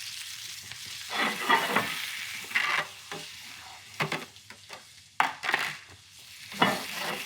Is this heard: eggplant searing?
yes